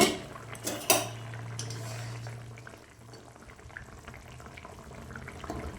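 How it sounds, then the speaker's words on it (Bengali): A metal lid clanks sharply as it is lifted off a cooking pot of boiling potatoes, a couple of bright clinks near the start, followed by soft bubbling and light utensil noise. "এবার আমি ঢাকনাটা খুলে দেখব"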